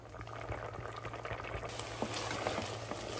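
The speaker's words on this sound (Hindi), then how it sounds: "अब इसे सुखा लें, फ्लेम को हाई पे रख के सुखाते जाइए।" Boiled mutton bubbles and sizzles in a pot on a high flame as its liquid cooks down, a steady dense bubbling hiss with small pops and faint stirring, close and continuous.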